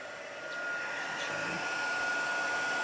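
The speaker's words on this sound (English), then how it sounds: "I'll just wait for the heat gun to heat right up" A heat gun used on clear embossing powder in a paper-crafting stamping setup whirs with a steady, close, continuous blowing hiss that rises slightly in level as it gets up to heat.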